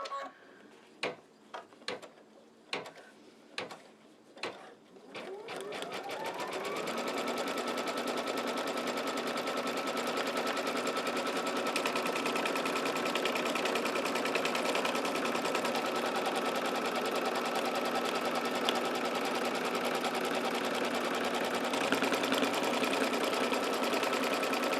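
An embroidery machine stitches an in-the-hoop embroidered postcard, opening with a few separate clacking stitches before settling into a steady, loud, continuous mechanical whir with rapid needle ticking close by.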